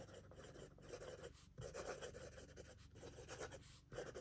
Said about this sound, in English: because this is free space, I'll just write Darren